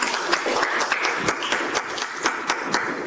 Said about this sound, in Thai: ปรบมือให้กับพระเจ้าของเราด้วยกัน